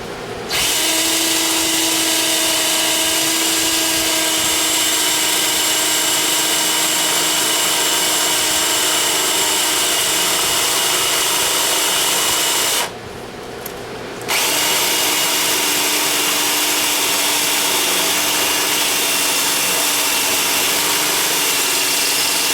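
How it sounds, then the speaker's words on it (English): A small angle grinder runs steadily, grinding down a raised weld bead during rust repair on a 2001 Pontiac Bonneville, loud and close with a bright whine that stops briefly mid-way before resuming. "Gotta get my little grinder. There's a little bit of a hump to that weld."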